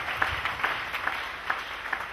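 A church congregation claps for Jesus Christ during a sermon. The claps come as a dense, rhythmic patter with regular accented beats, a moderately loud crowd clapping together in a large room.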